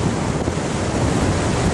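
Loud, dense wind roar blasts the microphone continuously near the aircraft carrier Lexington, a broad rushing noise with no voices.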